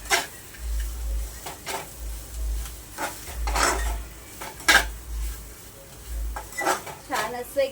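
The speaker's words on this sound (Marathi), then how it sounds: "एकदम कोरड होईपर्यंत आपल्याला हे परतत राहायचं आहे" Peanut and chili paste is stirred in oil in a pan for a fasting sabudana khichdi, giving repeated close spoon and utensil scrapes against the metal in short irregular bursts.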